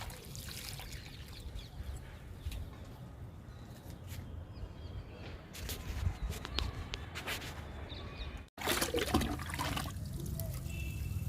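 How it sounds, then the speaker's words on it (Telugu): Liquid fertilizer made from two mixed ingredients is poured onto fruit plants in a garden, a steady close splashing and trickling over the soil with a brief pause partway through. "ఈ మొక్కకు కూడా ఇస్తున్నాను లిక్విడ్ని"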